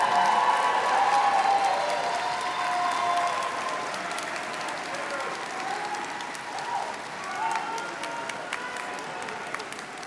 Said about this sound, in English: take a moment to applaud your families and loved ones who helped to